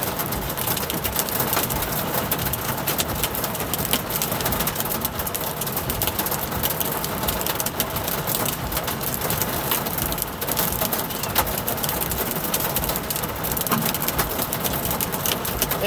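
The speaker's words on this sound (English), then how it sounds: "You can hear the hail hitting the roof here." Hail drums steadily on the metal roof of a van stuck in traffic during a hailstorm, a dense, continuous rattle of countless impacts that stays loud and even from start to finish with no voices.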